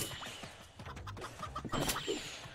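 A cartoonish chicken clucks in short bursts during the co-op moving game Moving Out, mixed with busy game sound effects and music.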